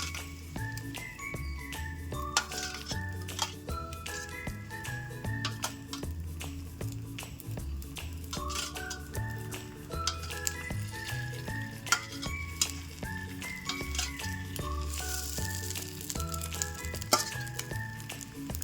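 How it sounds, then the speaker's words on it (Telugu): Egg mixture frying in a pan for a chapati-egg snack, giving a steady sizzle with scattered stirring clicks, partly under background music throughout. "ఇప్పుడు సేమ్ అలాగే అందులోకి సేమ్ ఈ ఎగ్ మిశ్రమాన్ని కూడా వేసుకుందాము."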